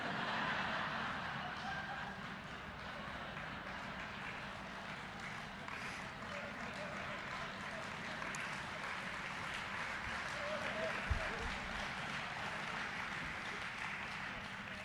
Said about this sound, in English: Craig Swanson, those applause are for you.